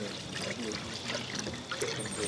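Hot water pours into a cooking pot over an outdoor fire, a soft, steady trickling splash heard up close and fairly quiet against light background noise, with no talking.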